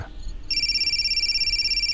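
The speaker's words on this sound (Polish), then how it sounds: "kiedy w kieszeni Patryka zadzwonił telefon." A mobile phone starts ringing in a pocket after a brief quiet moment, then keeps up a steady, fast-pulsing electronic tone that stays loud and even.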